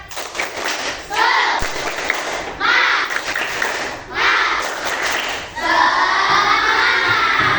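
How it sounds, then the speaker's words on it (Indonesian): Classroom children clapping and cheering in loud bursts, four waves of claps and shouting broken by short pauses, close and energetic, with young voices calling out together. "Oke, beri satu tepuk semangat."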